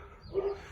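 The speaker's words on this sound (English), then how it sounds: "excuse the dog in the background" A dog barks faintly somewhere in the background during a lawn renovation, one or two soft, brief barks in the middle of a short, quiet stretch.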